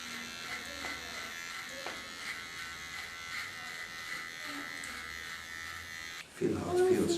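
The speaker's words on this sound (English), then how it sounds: "Like a baby clipper." A small electric baby hair clipper buzzes steadily while cutting long hair short, a close, thin continuous hum that changes as it moves through the hair, with voices over it near the end.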